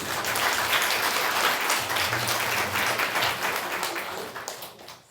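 A church congregation claps together to bless a couple soon to be married, a full steady round of applause that swells early and then fades out toward the end.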